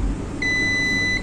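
A multimeter in continuity mode sounds a single sustained high-pitched beep while its probes touch a shorted 3-volt power rail on an HP ZBook 14u G5 laptop board, starting abruptly and holding steady.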